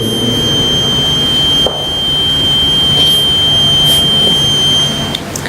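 Steady high-pitched electronic alarm tone sounding continuously over a low background hum, loud and unbroken throughout, with a brief dip partway through.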